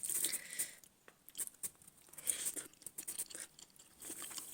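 Someone chewing a mouthful of rice mixed with fish curry and vegetable side dishes, soft close crunching and wet mastication in irregular bursts, quiet with no talking.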